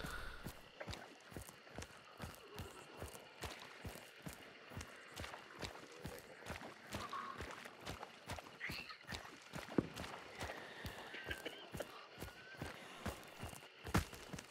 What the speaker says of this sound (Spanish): Escucha un caballo relinchar.